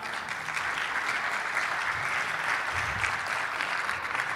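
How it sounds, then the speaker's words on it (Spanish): Church congregation applauds during a service, a steady, dense wash of many hands clapping at moderate distance, sustained evenly throughout with faint voices mixed in. "un aplauso para que se anime"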